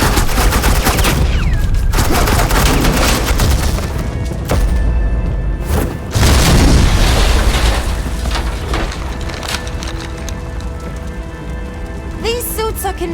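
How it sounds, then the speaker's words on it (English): Suppressing gunfire crackles through a Batman video game battle, rapid bursts of automatic fire overlapping into a dense, loud barrage with brief lulls and impacts, continuous for many seconds. "Suppressing fire."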